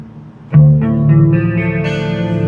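Clean electric guitar notes through a BOSS GT-8 with compressor and chorus are plucked one after another and left to ring, with a shimmering, smoothed-out tone, building into a gentle arpeggio.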